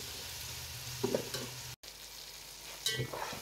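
Potatoes for aloo pulao sizzle steadily in a pan, with a couple of stirring scrapes and a brief dropout in the frying hiss.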